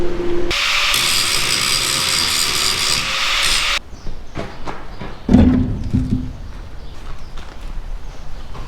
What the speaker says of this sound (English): I'm just going to tidy that up with the angle grinder a little bit